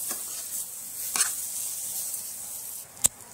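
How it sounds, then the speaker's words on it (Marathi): Chopped ripe banana is being stirred into roasted semolina in a pan, giving a quiet, steady scraping sizzle. A few sharper scrapes of the spoon stand out, and there is no talking. "पिकलेली केळी आहे ती केळी छान अशी रव्यामध्ये मिक्स करून घेऊ आपण"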